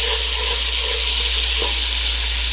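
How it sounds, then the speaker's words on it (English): Steady, dense sizzling of fish, garlic, thyme and habanero pepper frying in hot oil, continuous and close, with a faint clink partway through and no voices. "That's the sound that you want to have, the sizzling sound."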